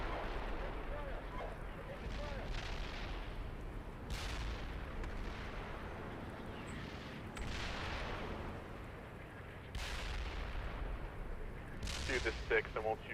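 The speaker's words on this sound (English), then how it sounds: "Artillery north." Artillery fire in the tank simulator Steel Beasts Pro PE: several loud booming blasts at roughly three-second intervals over a constant low rumble, with a voice talking over the battle.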